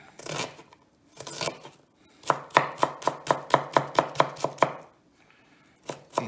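A knife chops an onion finely on a board: a few scattered cuts, then a quick, even run of about a dozen crisp chops, then a pause and two more.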